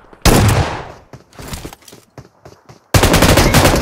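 Bursts of automatic machine gun fire in a mobile shooter game, a loud sustained volley, then scattered shorter shots and clatter, followed by another loud continuous burst near the end.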